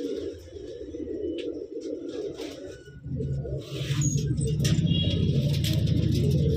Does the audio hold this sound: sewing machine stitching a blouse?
no